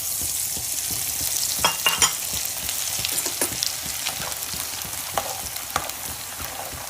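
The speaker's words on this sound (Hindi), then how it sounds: "ये कमरकस भी अच्छे से बढ़िया से फ्राई हो गई है" Kamarkas gum resin frying in a pan for panjeri, a continuous crackling sizzle with scattered pops and the scrape of stirring, close and fairly loud, with no talk.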